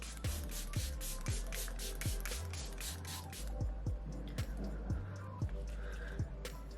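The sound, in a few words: setting spray sprayed on face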